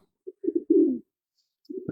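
Soft, low coos from racing pigeons returning home come in short bursts, a few quick notes then a longer throaty coo, with a pause before more cooing, close and quiet.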